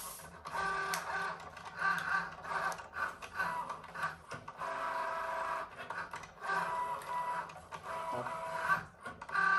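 Cricut cutting machine slices a velvet-like material with a steady, quiet mechanical whir and scraping that pulses and surges rhythmically throughout, no voices present.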